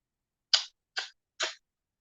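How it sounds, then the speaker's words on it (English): A teacup Pomeranian sneezes three times in quick succession, short sharp bursts close up and spaced about half a second apart against silence. "Don't sneeze my kisses away."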